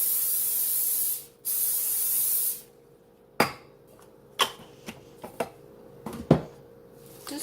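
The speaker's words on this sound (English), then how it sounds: "I'm going to spray some non-cooking spray into the pan." Non-stick cooking spray hisses from a can into a pan on medium-high heat in two short bursts, followed by scattered light clinks and taps of the pan.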